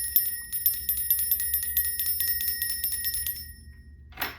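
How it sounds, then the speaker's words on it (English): A bell rings in a fast, repeated shimmering pattern of bright metallic strikes lasting several seconds, then fades, ending with a short soft rustle. "Let's ring a bell."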